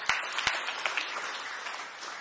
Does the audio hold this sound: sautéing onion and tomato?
no